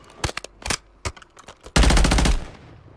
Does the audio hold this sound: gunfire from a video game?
yes